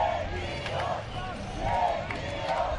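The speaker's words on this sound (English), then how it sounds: "You can hear the crowd getting up right now." A crowd cheers and rumbles at a pro final paintball match in the BRL league between Tampa Bay Damage and Russia, a broad swell of noise under a commentator talking.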